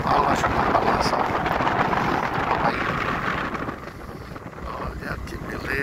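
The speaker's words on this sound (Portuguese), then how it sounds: "O vento tá terrível aqui." Strong wind buffets a motorboat as it rocks along, a loud, steady roar of wind against the microphone mixed with engine and water rush, with a person talking over it throughout.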